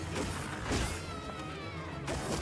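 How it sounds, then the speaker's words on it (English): A cat meows in the Monster Hunter Wilds beta game, with a couple of clear cries rising above a steady bed of game noise and soft impacts, fairly close and without talk. "Cute cat."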